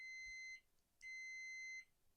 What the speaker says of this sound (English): You get the beeps, as you would expect.